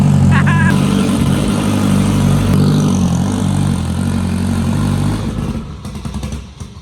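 Honda Civic engine running loud and close on a dyno, a strong steady drone of engine harmonics that drops and fades toward the end.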